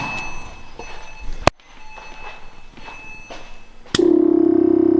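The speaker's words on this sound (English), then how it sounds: "Compressor turned on." Quiet clicks and rustling, two sharp snaps, then a Pandem Porsche's air suspension compressor kicks on and runs with a loud, steady droning hum.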